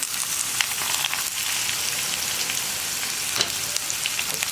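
Chopped ridge gourd sautés in a hot pan for a green gram thoran, producing a loud, continuous, bright hissing sizzle with occasional stirring scrapes and no voices.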